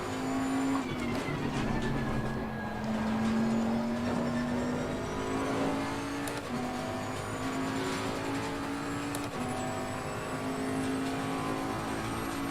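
A race car accelerates at Oulton Park circuit, its engine note climbing in pitch and dropping sharply at several quick, early gear changes, a steady rising drone with repeated shifts, loud and close, with no talking.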